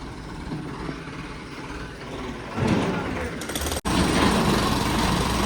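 A tractor with a trolley arrives at a house demolition site, its engine a loud, rough drone that swells midway, with a brief drop before it resumes; voices talk at times.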